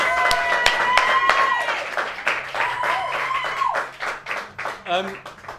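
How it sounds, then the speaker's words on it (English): Live audience at a storytelling show applauding as a storyteller comes on stage, clapping heard under a speaking voice and fading into separate bursts near the end. "please keep that applause going"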